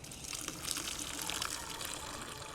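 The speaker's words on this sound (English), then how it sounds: "Fill a bucket up with water and dish soap." Water gushes steadily into a bucket being filled for dish soap cleaning of a lawn mower deck, a continuous close rushing splash with no talk.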